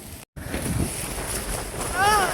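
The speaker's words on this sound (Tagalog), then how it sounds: "Ang lakas ng hangin." Strong gusty wind on a rainy Jeju Island shore buffets the microphone with a continuous rushing roar, while people talk faintly beneath it.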